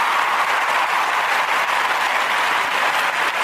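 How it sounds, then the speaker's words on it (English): A clapping sound effect played as thanks to a channel subscriber, a steady, dense burst of applause-like clapping that runs evenly for the whole stretch with no voice over it. "Here is the clap for you."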